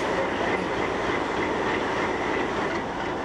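A passenger train running between Puno and Cusco in Peru, its steady rumble and rail noise continuous and close throughout, with no voices.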